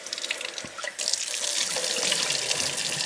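Rice is rinsed under a running kitchen tap, the water splashing into the grains in a steady, close hiss that swells louder after a brief quieter start.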